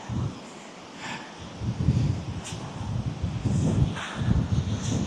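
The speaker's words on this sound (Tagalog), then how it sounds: "Malakas lang yung hangin." Low rumbling gusts of wind buffet the microphone in uneven bursts, steady and fairly loud, with a faint rustle in the background.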